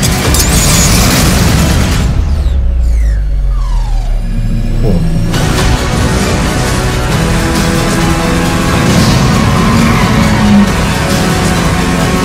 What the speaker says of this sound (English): It's a hand grenade.